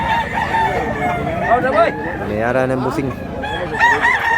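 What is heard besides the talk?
rooster crowing at a chicken market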